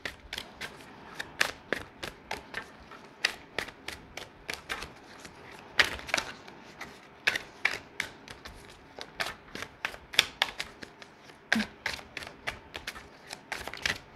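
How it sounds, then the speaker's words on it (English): A deck of cards riffled and shuffled in quick bursts of rapid flutter, with sharp taps and pauses between rounds, close and clear. "We're going to shuffle again"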